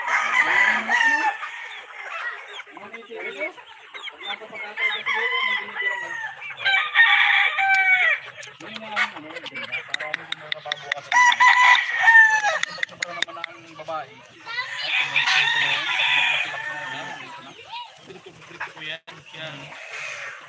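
Chickens cluck busily on a farm while a rooster crows repeatedly in bursts, fairly close, with people talking intermittently underneath.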